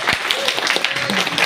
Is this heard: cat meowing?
no